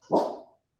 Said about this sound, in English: apologies for my dog here in the background